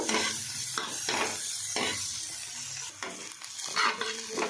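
Onion and garlic frying in a pan while being stirred, bursts of crackling sizzle alternating with scraping strokes of the spoon, fairly close.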